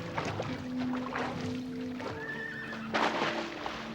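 Wild brumby horses near an outback waterhole, with a horse whinnying faintly at a distance amid soft ambient outdoor sound, a couple of thin tonal calls rising above a quiet background.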